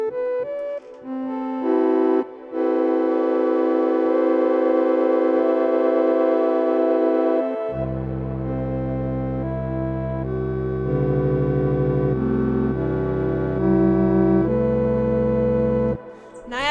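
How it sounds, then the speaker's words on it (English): Synthesized microtonal chord in naiadic tuning: sustained, precisely tuned tones stacking into a bright chord, then shifting at about eight seconds to a fuller, lower-voiced chord that holds steady and loud before cutting off near the end, with no talking. "This is the naiadic sound."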